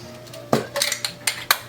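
Glass canning jars clink and knock sharply against a metal pot as they are lowered into boiling water for sanitizing before making raspberry jam, several distinct close clanks in quick irregular succession.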